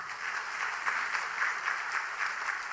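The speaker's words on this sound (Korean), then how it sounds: "우리 함께 큰 박수로 함께 맞아주시면 감사하겠습니다." A church congregation at a Wednesday night service in Haeundae, Korea, claps in welcome: a full, even roll of many hands sustained without a break, heard alone.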